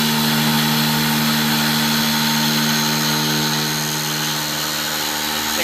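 CNC mill cutting with a chamfer tool, a steady dense high-pitched whir with a constant spindle hum, unbroken and fairly loud, with no voices.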